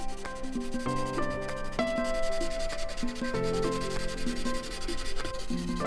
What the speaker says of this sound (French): Je continue de grisonner en appuyant de plus en plus fort sur ma partie qui doit être ombragée.